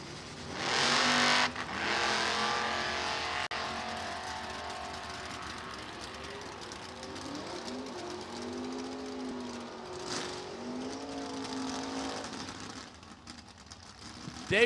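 A pair of early Chevy Nova Super Pro door cars launch in a drag race with a loud engine roar that settles into a long sustained drone, with shifting tones as they run down the strip and a crowd murmuring in the background.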